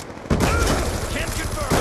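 Sustained military gunfire and explosive bursts from a shooter video game, dense and loud across nearly the whole moment after a quieter start, with some voice mixed in.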